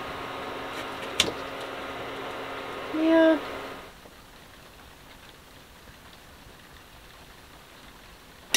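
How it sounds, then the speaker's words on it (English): A steady wash of rain patters on a 30-foot sailboat, with a brief tonal hum and a sharp click early on before the rain continues alone. "It's raining now, eh?"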